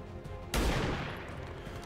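A single heavy rupture shot in XCOM 2, a loud gunshot blast with a sharp onset that trails off into a brief decaying echo.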